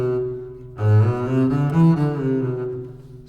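Cello playing bar 14 of the Prelude from Bach's Cello Suite No. 2 with the D raised an octave, a short bowed phrase of several connected notes after a low held tone, close and solo.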